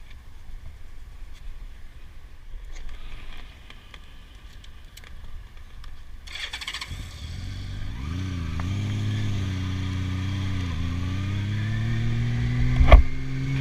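A Honda Valkyrie F6C flat-six motorcycle starts, settles into a smooth low idle, then rises as it pulls away, loud and close, with a sharp knock near the end.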